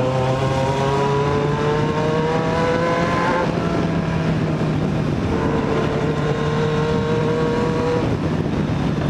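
In a video game, a motorcycle in a favela revs up loudly and close by in two rising surges, each climbing in pitch before dropping back to a steady drone.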